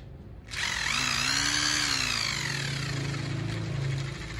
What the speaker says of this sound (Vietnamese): Cây băng vít Kugi Ubi điện 100V 180W nha anh em.